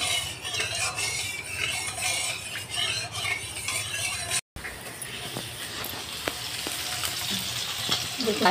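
Fish sizzles steadily in refined oil in a wok, a dense, close frying hiss with occasional utensil clinks and a brief break partway through; no voices.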